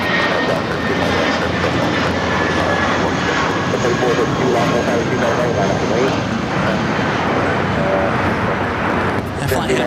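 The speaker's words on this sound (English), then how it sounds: "Flying heading to Vancouver, American Airlines Flight 1719, an old America West A319" An American Airlines Airbus A319 jet at LAX roars loudly and steadily with engine rumble and whine, near and continuous, while a voice talks over it.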